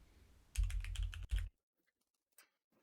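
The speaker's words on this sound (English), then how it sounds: "now I'm typing" Quick bursts of keystrokes on a computer keyboard, a rapid clattering run of about a second, then a pause and one last faint tap.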